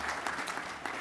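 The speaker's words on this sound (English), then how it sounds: "a little round of applause to say thank you for your leadership in this space" A brief, faint burst of audience applause at a conference session, soft and distant with a few sharper claps standing out from the crowd's patter.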